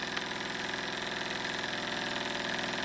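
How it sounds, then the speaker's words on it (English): A smoothly running engine idles steadily and evenly, its close, continuous mechanical hum holding a constant rhythmic pulse throughout, with no voices. "A very nice smooth running engine"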